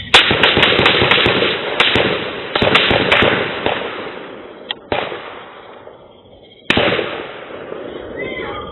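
A rapid volley of nearly 24 sharp, loud gunshots fired at a woman, some clustered closely and others spaced apart, ringing out continuously with brief pauses between bursts.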